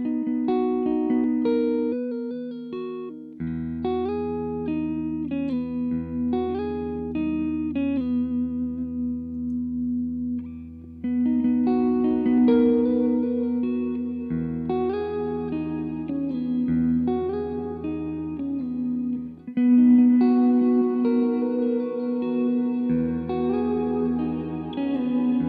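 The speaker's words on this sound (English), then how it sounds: "This tri-dimensional reverberation machine is a compact three-mode reverb" An electric guitar played through a compact three-mode reverb pedal plays sustained notes and chords that ring out with a washy, spacious reverb tail, lingering between phrases.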